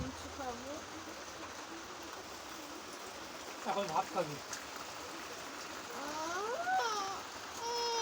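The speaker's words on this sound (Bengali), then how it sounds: "দেখো বাইরে কত বৃষ্টি হচ্ছে" Heavy rain falls outside a home as a steady, even hiss throughout. Brief voices speak over it now and then.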